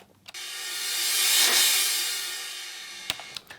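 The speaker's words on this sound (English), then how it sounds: "you just go about doing the reverse crash like you normally would" A reverse crash cymbal with reverse reverb swells from near silence into a bright, hissing wash that peaks midway and then fades back down, followed by a few faint clicks near the end.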